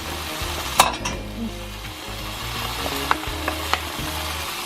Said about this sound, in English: Here we add the tomatoes and the chilli.